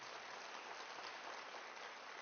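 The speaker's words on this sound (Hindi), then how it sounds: "ये तालियां सर के लिए कम है" Steady, dense applause from a large audience at a Forever Living India sales conference, continuous and even throughout with no voices on top, somewhat distant and soft.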